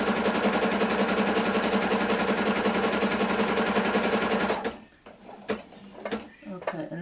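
A sewing machine stitches a quilted jacket in a fast, even mechanical rattle for about four and a half seconds, then stops, leaving a few quiet handling clicks and knocks.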